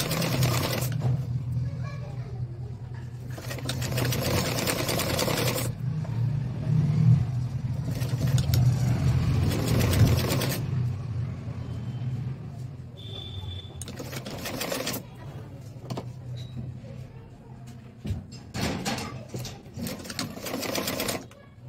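A sewing machine runs in several loud bursts of rapid stitching, separated by short pauses, while a voice is heard faintly between runs.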